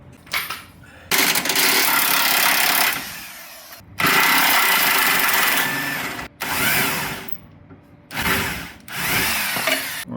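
A ratchet wrench and power tool work on an 18mm bolt on a 2016 Volkswagen Jetta rear shock, with loud bursts of rattling and ratcheting separated by short pauses, up close and without talk.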